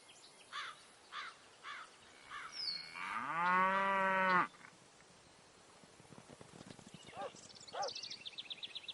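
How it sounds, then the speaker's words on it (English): Cows lowing on the way to Durham: one long, loud, drawn-out moo up close, with shorter calls and scattered hoof clops and birdsong before and after it. "came to Dunham with my cows"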